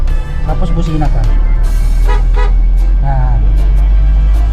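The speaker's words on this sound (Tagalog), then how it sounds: "Tapos busina ka." A Mitsubishi L300 van's horn gives short, loud, close beeps in quick succession inside the cab, while people talk over and between them.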